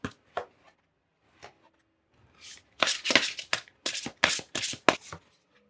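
A deck of oracle cards is shuffled by hand during a tarot reading: a few sparse soft slaps at first, then a close, dense run of quick riffling and card-snapping bursts, with no talk.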